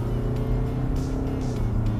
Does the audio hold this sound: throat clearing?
no